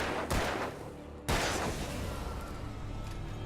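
Two sharp gunshots ring out close by in the video game Alan Wake, spaced about a second apart, each decaying into a lingering echo over a steady low ambient rumble.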